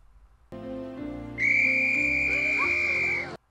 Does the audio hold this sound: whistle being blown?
yes